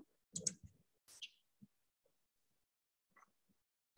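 Computer mouse clicks at close range during an order-entry session in business software, a few short sharp clicks spread across a mostly quiet stretch.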